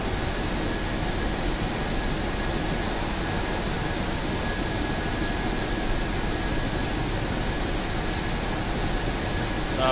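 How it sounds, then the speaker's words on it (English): Steady, loud jet-like turbine roar from a Union Pacific gas turbine locomotive on Sherman Hill in Train Simulator 2016, a constant dense rush with a thin whine that holds unchanged throughout. "where did DT get the jet sounds for the turbine?"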